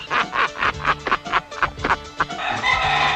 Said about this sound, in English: I got the finest 5-pound chicken alive, Jack